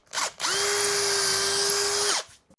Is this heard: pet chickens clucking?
no